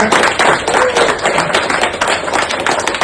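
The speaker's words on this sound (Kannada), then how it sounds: "ಜೋರಾದ ಚಪ್ಪಾಳೆ." Loud applause at a home gathering honoring a swamiji, many hands clapping in a dense, rapid patter that stays strong and close for the whole stretch.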